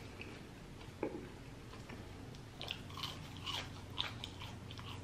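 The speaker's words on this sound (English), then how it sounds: "Fries are so good." Crunchy fast-food fries from Checkers are chewed up close, with a handful of soft, crisp bites and crunches scattered over a quiet background.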